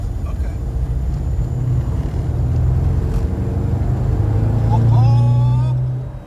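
A Mercedes 500SL drives on the road, its engine a steady low rumble that swells as it picks up speed and shifts, heard from inside the car with people talking over it.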